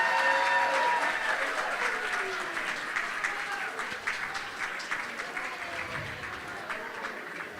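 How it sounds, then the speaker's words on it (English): A conference audience gives a sustained round of applause, dense clapping that starts strong and slowly tapers over several seconds, heard from within the room. "Give them another round of applause."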